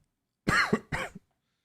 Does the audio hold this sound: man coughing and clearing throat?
yes